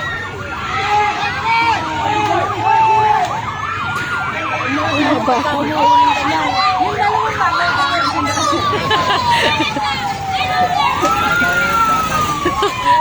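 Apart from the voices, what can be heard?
fire truck siren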